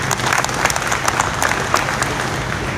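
An audience at a political speech by BJP MLA Abhay Patil breaks into steady, crowded clapping that stays loud and even throughout, with a faint murmur of voices underneath.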